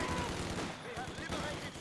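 A short stretch of loud automatic gunfire in a WWII-style battle game, rapid overlapping shots over a constant battlefield roar, with a game voice faintly mixed in.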